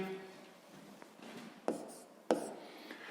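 Quiet scratchy strokes of writing as the first step of a sixth-grade maths solution is written down, with a few sharper taps among the soft scraping and a voice in the background.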